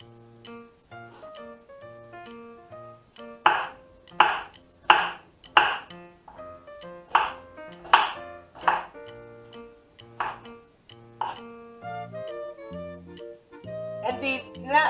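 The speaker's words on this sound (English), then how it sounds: "We're going to dice up these onions that are guaranteed to make you cry." Knife dicing onions on a board for Cleveland Browns chili, a run of sharp, fairly close chops in bursts, with a low steady hum and voices underneath.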